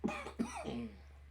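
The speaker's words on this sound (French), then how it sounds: "J'ai toussé pour vrai" A person coughs twice in quick succession, close and sharp, followed by a short throaty trailing sound.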